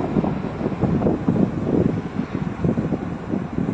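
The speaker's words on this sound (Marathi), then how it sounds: "काय वारं सुटलंय." Strong wind at Devghali Kasheli beach roars across the microphone in a continuous low, gusty rumble that swells and dips, loud and close, with no voices.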